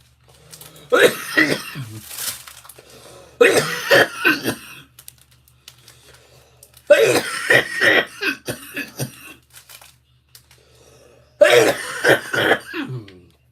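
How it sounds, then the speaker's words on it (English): Four separate bouts of harsh coughing and throat clearing come from a person who struggles to breathe, each burst close and loud with quiet gaps between them. "Don't mind my coughing, guys."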